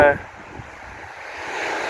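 Strong wind roars across the open beach at Cayton Bay, a steady broadband rush with surf-like wash, swelling louder toward the end.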